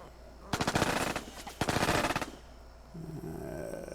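Two bursts of rapid automatic gunfire crackle in the Lock 'n Load Tactical Digital war game, each lasting about a second, loud and close, followed by a low rumbling drone.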